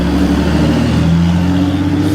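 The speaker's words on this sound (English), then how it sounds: "Oof, that exhaust." An Intrepid car's exhaust drones loud and steady as it passes close by on a Manhattan street in the evening, a low throaty engine tone holding level throughout.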